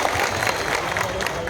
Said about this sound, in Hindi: जोरदार तालियां विधायक महोदय के लिए।